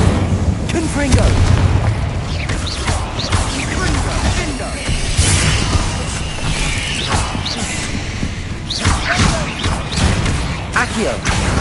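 Confringo spell explosions in Hogwarts Legacy, with loud, repeated booming blasts and thuds over a constant roar of combat effects and game score, while a voice speaks now and then.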